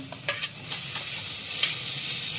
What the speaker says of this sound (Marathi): टोमॅटो परतून घेते.